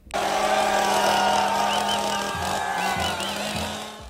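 A loud, continuous motorized whine with a steady buzzing drone, revving slightly toward the end, like a chainsaw running close by.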